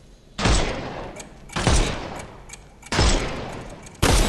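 Gunshots in the Sherlock Holmes Chapter One video game ring out as four loud, separate blasts, evenly spaced about a second apart, each with a short booming decay.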